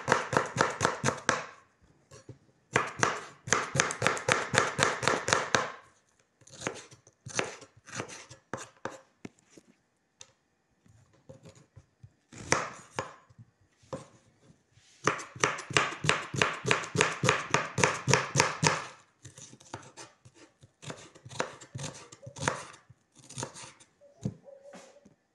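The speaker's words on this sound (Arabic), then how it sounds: "قطعت بصل زي كده" Onions are chopped with a knife on a board in rapid bursts of crisp, close taps, with pauses between runs of quick rhythmic cuts.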